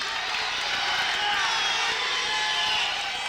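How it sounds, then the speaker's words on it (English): Crowd cheering and roaring at a 2002 high school district wrestling final, a steady dense wash of voices that holds loud and unbroken throughout. "Boy, you can hear the crowd."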